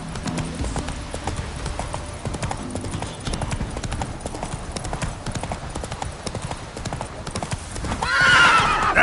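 Hooves of Roach, the horse in The Witcher 3, clip-clop in a steady trot close by, ending with a loud whinny near the end. Quiet game ambience sits underneath.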